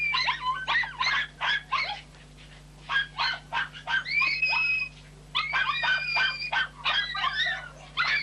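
Several Jack Russell-type mongrel terriers yip, whine and bark excitedly in quick, high-pitched bursts before a rat hunt, over a steady low electrical hum.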